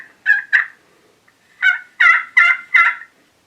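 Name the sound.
turkey call imitating gobble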